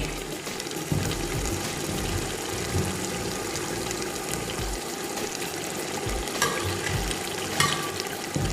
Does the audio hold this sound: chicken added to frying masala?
yes